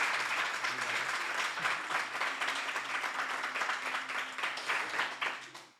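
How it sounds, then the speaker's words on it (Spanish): Audience applause for a guest on a Spanish radio show recorded live, sustained dense clapping at moderate level that tapers off at the end. "Así que un fuerte aplauso a Néstor, por favor."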